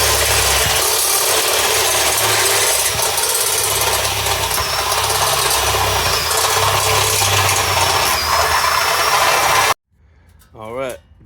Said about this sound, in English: drilled these all to 1 3/8. There's a total of 7 holes.